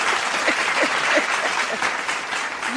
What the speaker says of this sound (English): Let's give her some hand claps